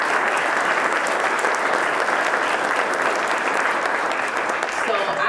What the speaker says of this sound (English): that alone deserves a round of applause for you.